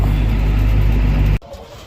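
An International 8300 tractor truck's diesel engine rumbles loud and close with a heavy low drone, then cuts off abruptly, leaving faint background noise.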